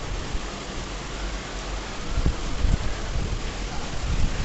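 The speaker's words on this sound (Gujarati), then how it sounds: "અત્યારનો વરસાદ પડી રહ્યો છે." Heavy rain falls at night with thunder and lightning about, a dense steady broadband hiss that swells slightly toward the end, close and without voices.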